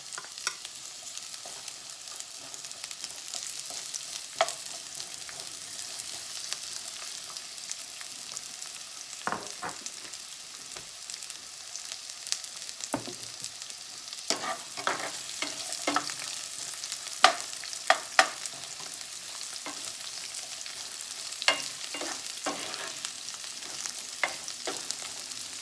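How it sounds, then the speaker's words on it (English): Garlic and then onions frying in hot oil for ampalaya (bitter gourd), a steady close sizzle with scattered sharp crackles and spatula scrapes running throughout, no talking. "Now the oil is ready. It's hot. I will add first the garlic, then the onions"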